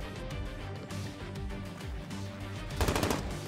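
Rapid light machine gun fire in a shooting video game, a steady close burst of shots that swells louder near the end, with no talking over it.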